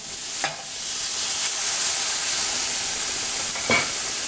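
A burger sizzles in a hot pan just after being flipped, a steady loud frying hiss with a few brief scraping or stirring sounds at intervals.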